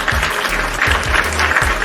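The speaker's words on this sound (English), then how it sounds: "Round of applause, ProWrestlingBits." Studio audience applause on a pro wrestling podcast, a short steady burst of clapping at moderate level with no talk over it.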